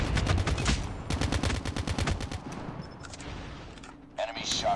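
Rapid automatic gunfire rattles in rhythmic bursts in the Call of Duty Mobile video game, loud and close at first, then tapering off before a few more sharp shots at the end.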